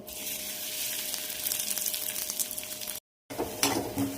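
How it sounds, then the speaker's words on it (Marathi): Onion and curry leaves frying in extra oil in a wok for a spicy chutney, giving a steady close sizzle with a brief gap of silence before the crackle returns. "त्याच कढईमध्ये मी पुन्हा तेल टाकलेलं एक्स्ट्रा आणि सुरुवातीला मी कांदा आणि कढीपत्ता टाकून घेते"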